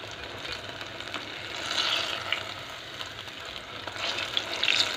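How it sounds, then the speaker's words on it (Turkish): Zucchini cooking in a pan without added water, giving a steady close sizzle and frying hiss with occasional stirring scrapes that swell louder toward the end. "Bu da kabaklar da pişiyor."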